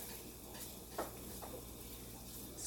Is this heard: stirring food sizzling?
yes